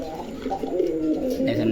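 Pigeons in a coop, including a pair with heavily feathered feet, give low repeated cooing calls close by, with a voice talking over them.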